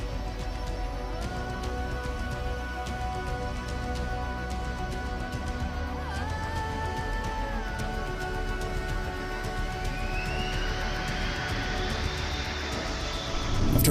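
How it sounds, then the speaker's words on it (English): An Airbus A321-200 jet attempting to land in strong crosswinds at Lisbon Airport, with a steady engine drone and whine whose pitch shifts over time, continuous and fairly distant, rising louder at the very end. "an Airbus A321-200 was trying to land at Lisbon Airport in Portugal"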